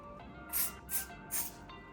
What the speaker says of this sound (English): you spray it with this hardener